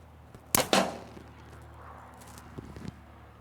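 A broadhead arrow, shot from about 10 yards, punches through the lid of an industrial steel drum: two sharp close impacts in quick succession, then a quiet pause and a couple of softer knocks.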